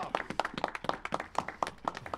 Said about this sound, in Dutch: Applaus voor deze hoogheid.